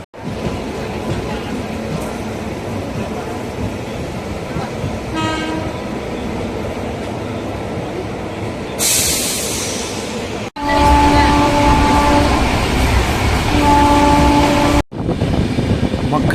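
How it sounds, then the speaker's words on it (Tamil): Cheran Superfast Express train running at high speed at night, a loud continuous rumble and rush of wheels with a brief horn-like tonal burst, heard from on board and close. "சேரன் எக்ஸ்பிரஸ் சரியான வேகம் மக்களே"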